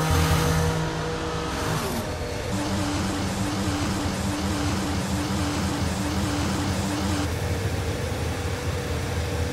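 An F1 car in a Formula One racing game drives back to the pits after being black-flagged, its engine a steady, loud drone with a brief rev change near the start and no talking.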